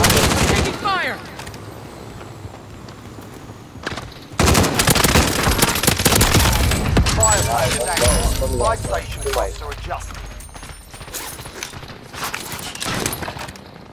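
Bursts of automatic gunfire and scattered shots in a Call of Duty Modern Warfare match, loud and close at times with quieter stretches, while players talk over the action.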